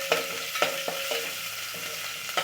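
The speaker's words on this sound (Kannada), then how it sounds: "ಇದನ್ನು ಚೆನ್ನಾಗಿ ಒಂದು ನಿಮಿಷ ಫ್ರೈ ಮಾಡಬೇಕು" Garlic and small onion fry in a pan with mustard seeds and curry leaves, a continuous close sizzle broken by a few sharp scraping stirs of a spatula against the pan.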